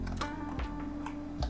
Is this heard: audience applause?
no